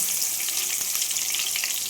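Steady crackling sizzle of spices frying in hot oil for a seer fish curry, close and continuous, with no talking.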